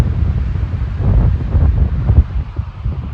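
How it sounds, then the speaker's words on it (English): Strong wind buffets the microphone in loud, gusting rumbles in Southern California bear-hunting country, rising and falling throughout with no voices. "Super windy right now."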